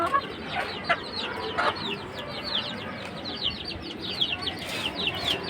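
Chickens on a small farm cluck repeatedly in a steady, overlapping flurry of short calls over a busy outdoor background, fairly close and moderately loud throughout.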